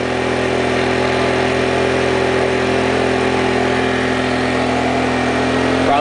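A Honda EX650 portable generator that had a stuck exhaust valve runs steadily at constant speed, a close, loud and even engine drone with no talking over it.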